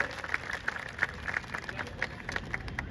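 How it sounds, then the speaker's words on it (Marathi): An audience at a Shiv Jayanti celebration in Nashik Road claps along in quick, fairly even beats, moderately faint with a little background crowd murmur. "परत एकदा टाळ्या उद्या"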